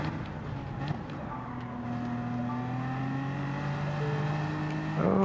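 A BMW M4 Gr.4 race car in Gran Turismo 7 accelerates at Interlagos, its engine note climbing steadily in pitch through the gear and swelling louder toward the end.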